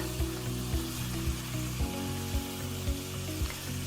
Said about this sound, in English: After a good 5 to 10 minutes of frying, start seasoning your food